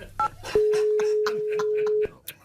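A telephone dials Philippe Bouvard: a brief dual-tone beep is followed by a sustained steady tone lasting about one and a half seconds, with voices faintly mixed around it.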